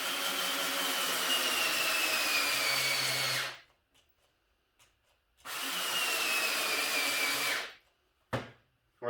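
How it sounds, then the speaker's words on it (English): An old, roughly seven-year-old power drill bores into a pool table slate being made into a bonsai pot, lubricated with beer: two loud, steady whining runs of about three and a half seconds each, separated by a pause with a brief burst at the end. "Well, I can't blame this drill."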